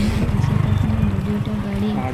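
A vehicle crawls slowly through water on a rural road, a steady low rumbling churn with splashing close by, loud and continuous, with a voice talking briefly over it.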